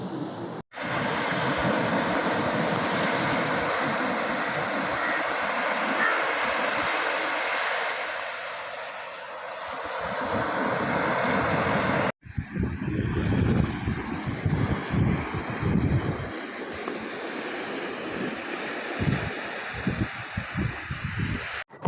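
Sea waves break on a hidden Kochi beach with rocks nearby, a continuous close wash of surf and wind buffeting the microphone, shifting to a choppier, uneven roar partway through, with no voices.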